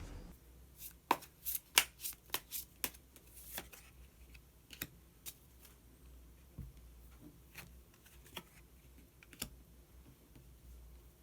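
Tarot cards are shuffled and drawn by hand, giving a burst of sharp, quick clicks and riffles that thins to sparse, separate snaps in a quiet room, with no speech.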